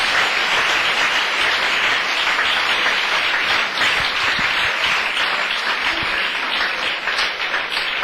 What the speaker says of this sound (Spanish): Aplauda la gloria del Señor esta mañana, glorifíquelo